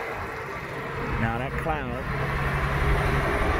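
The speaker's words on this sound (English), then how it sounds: "Now what you hear is cars going by, truck going by, so it's kind of loud" A steady roar of traffic as cars and trucks drive past nearby, with someone talking over the noise.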